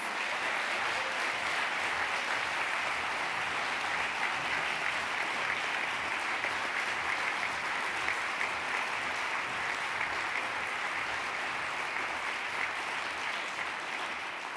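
An audience at a university research and innovation awards ceremony gives sustained applause, a dense, even wash of many clapping hands holding steady at moderate volume for well over ten seconds without talk.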